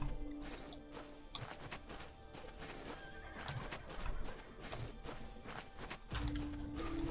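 Horse neighing in the video game Badiya, a loud whinny opening and closing the stretch, with clopping hooves, thuds and a crash in between, all close and without talk.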